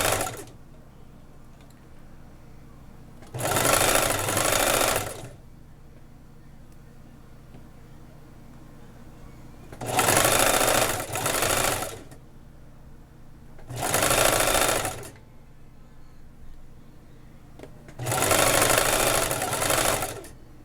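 A sewing machine stitches a half-inch hem on the sleeve of a batwing top, running in four loud bursts of a few seconds each, separated by quiet pauses.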